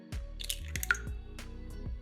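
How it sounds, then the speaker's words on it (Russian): Two eggs crack against a bowl and drop wetly inside, a few close, soft taps and squishy splats in a quiet kitchen. "В миску разбиваем 2 яйца."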